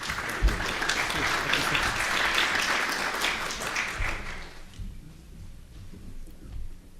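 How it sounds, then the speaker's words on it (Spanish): An audience at a geotechnical engineering workshop breaks into loud, dense applause for about four seconds, then the clapping thins out and dies away to scattered claps. "Muchas gracias y un fuerte aplauso,"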